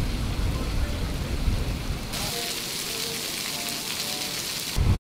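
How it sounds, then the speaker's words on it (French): Heavy rain pours down in a steady, dense hiss with low rumbling thunder underneath, at a private members' club with a race track before a drive in a damaged Porsche GT3; the roar lightens midway. "on se retrouve sous une pluie diluvienne avant de prendre la voiture sur la piste"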